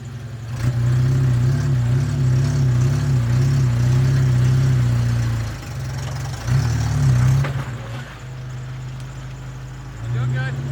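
A Jeep Wrangler TJ crawls slowly over a beaver dam, its engine holding a deep, steady low rumble that dips and surges as the throttle eases off and picks back up, close and loud throughout.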